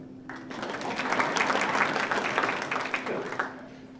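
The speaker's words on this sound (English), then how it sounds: "You can clap for me." An audience at a high school appreciation reception breaks into applause, a dense, even patter that swells and holds for about three seconds, with a low steady hum underneath.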